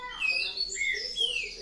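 Songbird, a young grego (red-legged thrush) chick, singing close by in a short burst of high whistled and chirping notes with no talk over it.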